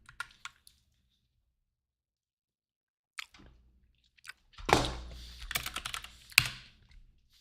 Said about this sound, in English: WASD metallic keyboard, the aluminum one